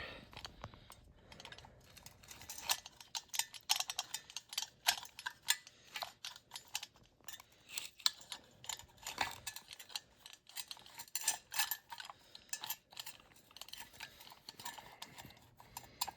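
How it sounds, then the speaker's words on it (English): Faint, irregular clicks and scraping from a small flathead screwdriver prying at the plastic housing of a snowblower's pull-cord mechanism, quiet and close, with scattered light taps throughout. "Get a small flathead screwdriver in there."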